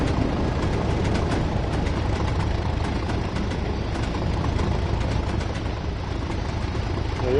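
A continuous rumbling train in the video game Train Sim World 2 on PS4 Pro runs steadily, its low mechanical roar and rhythmic clatter holding an even level throughout.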